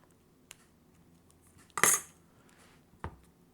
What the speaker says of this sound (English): we get our blade, we slice through